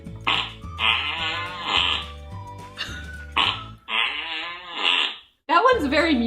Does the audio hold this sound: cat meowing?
no